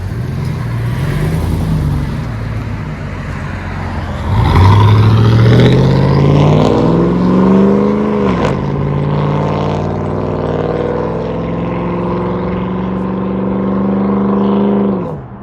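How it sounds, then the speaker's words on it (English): A GMC Sierra or Chevy Silverado pickup with a 5.3 or 4.3 engine drones steadily up close as road traffic passes, surging into a louder rev around the middle before settling back into a sustained hum. "Traffic galore"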